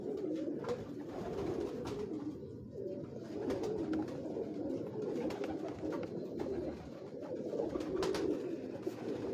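Alfan pigeons cooing steadily on a Lahore rooftop, a continuous low murmuring chorus of several birds close by, with no talk.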